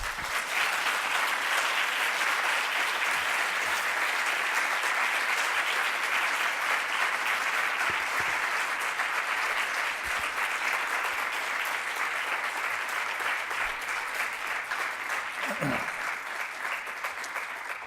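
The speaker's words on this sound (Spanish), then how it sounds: "Me aplaudís porque me he ceñido a los 3/4 de hora" Audience applause after a talk on the graphic novel as a vehicle for integration, a sustained, even patter of many hands clapping throughout, fairly distant, with a brief voice near the end.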